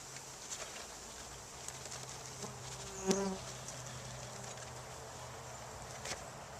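Package honeybees dumped into a hive box give off a faint, steady buzzing hum, with a brief louder knock near the middle and light scattered patter around it.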